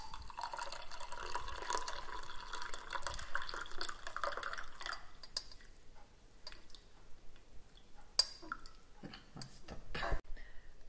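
Cooking water from boiled green plantain pours out through a colander, a soft steady rush of draining liquid for several seconds that gives way to scattered drips and light clinks as the flow stops.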